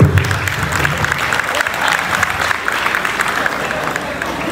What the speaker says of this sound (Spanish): Y que se hagan fuertes aplausos para la reina de esta noche.